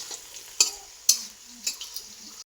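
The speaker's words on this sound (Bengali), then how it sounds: "এখন এই ভাতটাকে একটু ভেজে নেব" Cooked rice frying and being stirred in a pan for fried rice: a soft, steady sizzle broken by three sharp spatula scrapes and knocks against the pan, evenly spaced and close up.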